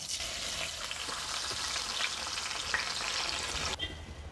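Steady crackling sizzle of onions frying in hot oil, continuous and fairly close, with faint stirring scrapes and no voices.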